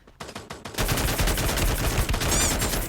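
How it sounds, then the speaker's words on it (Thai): Rapid gunfire in Free Fire, a sustained loud burst of automatic shots following a few scattered earlier pops. "ได้ยินเสียงยิงดังจุ๊บจุ๊บจุ๊บอยู่นะ"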